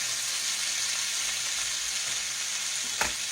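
Chicken wing drumsticks and potatoes frying in a pan, a steady close sizzle and crackle with a spatula scraping and stirring through them, one brief sharper clatter near the end.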